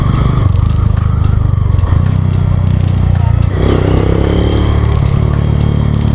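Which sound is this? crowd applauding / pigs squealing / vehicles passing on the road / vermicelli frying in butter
vehicles passing on the road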